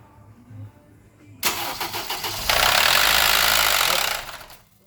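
A Honda K24A 2.4-litre engine, freshly swapped into a 2010 Acura TSX, cranks with a sharp burst of starter noise, then catches and roars loudly at a high rev before settling and cutting off.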